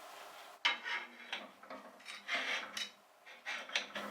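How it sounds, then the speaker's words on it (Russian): Four small ceramic bowls are set one by one into a pot lined with a cloth for a water bath. Quiet scrapes and dull knocks come up close in short bursts with pauses between them, and no one speaks. "И выкладываем сюда мисочки. Вот они аккуратно, у меня все 4 помещаются."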